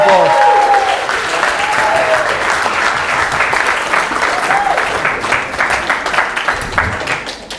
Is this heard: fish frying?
no